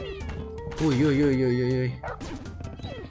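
A cartoon cat in the video game Crashy Cats gives one clear, fairly loud rising-and-falling meow lasting about a second, with a man's brief exclamation and background game sounds around it.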